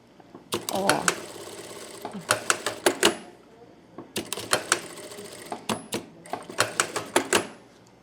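A sewing machine stitches fabric for a cachepô in bursts of rapid mechanical clatter, stopping and starting several times at close range with no speech.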